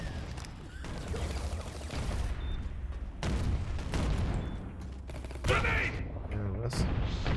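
Shotgun fire in the video game Ballistic Overkill, heard as a string of booming blasts over steady game noise, with a voice talking over parts of it.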